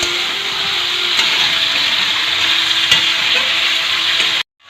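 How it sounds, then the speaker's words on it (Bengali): Chicken kosha fries in a pan, a loud continuous sizzle with a few faint scraping knocks from stirring, then it cuts off abruptly at the end. "এখন চিকেন কষা চলছে"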